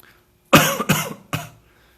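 Three harsh, close coughs in quick succession, loud and abrupt against near silence.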